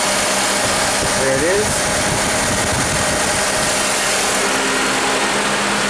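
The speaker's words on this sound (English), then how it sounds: "So we're manually energizing the AC compressor." A Honda engine idles steadily with its AC compressor clutch engaged, a continuous close hum and whir running under brief talk.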